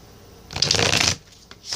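A deck of tarot cards is shuffled at close range, one brisk burst of riffling and flapping paper lasting about half a second, with no talking over it.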